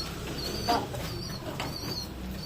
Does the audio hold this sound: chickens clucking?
no